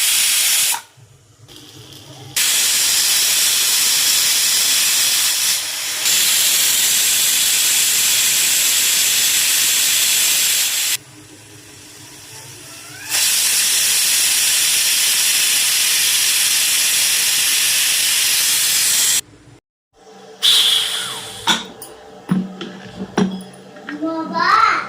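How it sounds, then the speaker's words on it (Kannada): A pressure cooker cooking rice and lentils whistles, with three long loud hissing bursts of released steam separated by quiet gaps. Some brief clatter follows at the end. "ಇದೊಂದು 3-4 ವಿಷಲ್ಲು ಕೂಗಿಸ್ಕೋಬೇಕು."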